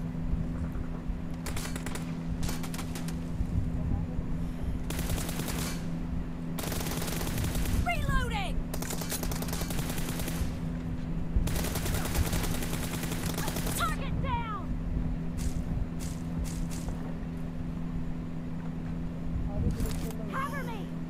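Rapid bursts of automatic gunfire and single shots from a BGMI battle-royale match, loud and repeated in clusters over a steady game hum, with voices talking throughout.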